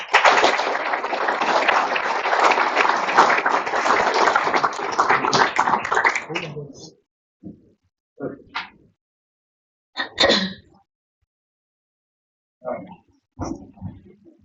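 Applause for students at a school board meeting, a dense burst of clapping for about seven seconds that then breaks off into a few scattered claps and faint taps in a quiet room.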